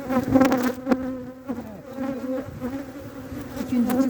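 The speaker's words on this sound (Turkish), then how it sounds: "Siyah olduğu için arılar oraya yoğunlaşıyor." Honeybees buzz close by in overlapping drones at a beehive in spring, loud and wavering, with no voices.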